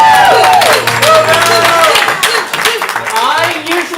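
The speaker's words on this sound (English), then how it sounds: "Here's your second chance to applaud." Audience at a ComedySportz improv comedy match clapping and cheering in a steady, loud burst of applause, with voices and whoops mixed through the crowd noise.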